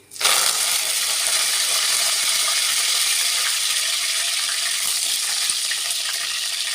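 Curry leaves, cumin and fenugreek seeds hit hot oil for a fish curry base, bursting into a loud, steady, dense sizzle that stays even throughout with small crackles and pops.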